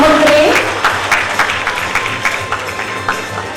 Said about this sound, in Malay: Kita berikan tepukan gemuruh kepada Yang Amat Berhormat Perdana Menteri